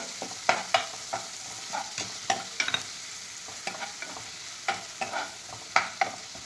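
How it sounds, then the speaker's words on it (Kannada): Garlic and coriander paste frying in a pan, a soft, close sizzle with intermittent scraping stir strokes at an uneven rhythm, no voices. "ಇದನ್ನು ಇವಾಗ ಚೆನ್ನಾಗಿ ಫ್ರೈ ಮಾಡ್ಕೋಬೇಕು"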